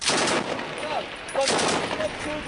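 Small arms gunfire in a combat zone in northern Helmand, crackling in loud bursts at mid distance, with a pause between volleys and scattered sharp reports.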